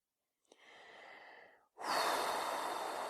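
A person breathes out deeply during a relaxation exercise. A softer breath is followed by a long, loud, airy exhale, close to the listener, with no talk.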